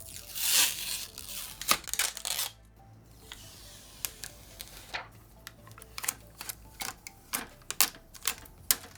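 Protective plastic film being peeled off an ROG Crosshair X870E Extreme motherboard gives close, crinkly rustling and sharp crackling snaps in irregular bursts, with a few longer tearing swishes.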